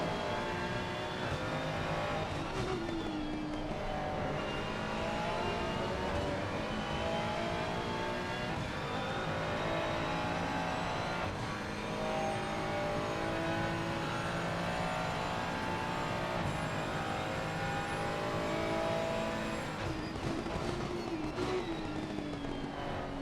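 Race cars in a console racing game at Monza roar continuously, engine notes rising and falling as cars run close together, a dense sustained drone with shifting pitches and no voices.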